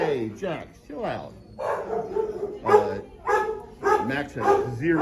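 Barking dogs in a shelter ward give scattered, intermittent barks that are mixed in with steady nearby conversation.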